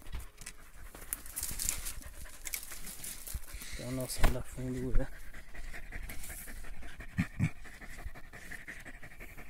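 A dog pants hard and fast at a deep burrow during a tegu lizard hunt, with rustling and crinkling close by and someone talking over it throughout.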